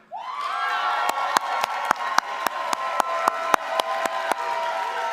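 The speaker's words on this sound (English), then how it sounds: "please stand up and let's give them a round of applause" Student athletes are applauded by a convocation audience at a college ceremony, with sustained crowd cheering and whoops carrying throughout and a string of sharp, evenly spaced loud claps or bangs punctuating the noise.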